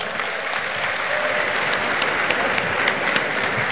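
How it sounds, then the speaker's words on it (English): Audience applause closes a prime minister's public town-hall forum, a steady, dense wash of many hands clapping that holds evenly for several seconds without talk. "may I ask for a round of applause for the moderator?"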